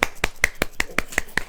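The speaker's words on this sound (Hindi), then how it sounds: "ताली बजाएं।" Audience at a Hindi church sermon clapping in unison: eight sharp, loud, close claps in a quick, perfectly even rhythm.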